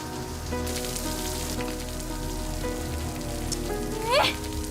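Rain falling steadily on a surface, a constant close patter running unbroken the whole time beneath faint background tones, with no talking.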